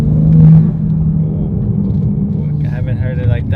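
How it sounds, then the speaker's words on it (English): A BMW G8X with the S58 twin-turbo engine and an aftermarket intake makes a deep, steady rumble with a faint whir on top. A voice speaks over it toward the end. "I missed that intake sound"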